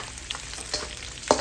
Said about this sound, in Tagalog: Medyo iprito-prito pa natin siya. Hanggang maging golden brown.